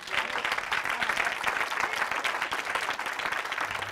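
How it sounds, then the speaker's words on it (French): A crowd applauds steadily, a dense wash of many hands clapping at an even level throughout. "Donc vous pouvez au moins autant applaudir Marie-Hélène que vous m'avez applaudi."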